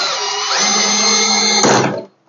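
A power drill drives a screw into the corner piece of an EZ rack during assembly, a loud steady whine for about two seconds that shifts pitch as pressure builds, then winds down and stops.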